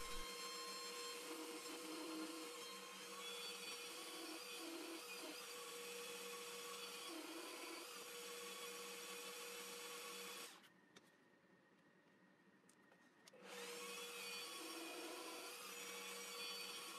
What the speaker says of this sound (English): To attach the latch hook, I drill two countersunk holes for the screws.